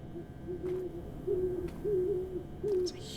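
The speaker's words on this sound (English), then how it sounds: "Owls." An owl in the video game Third Kind hoots at night, with about five soft, evenly spaced calls over a faint, steady ambient background.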